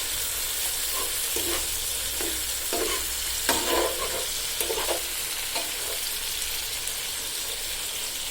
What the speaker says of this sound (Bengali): পেঁয়াজ, রসুন, কাঁচামরিচ ভাজার পর আমি মাছগুলো দিয়ে দিলাম।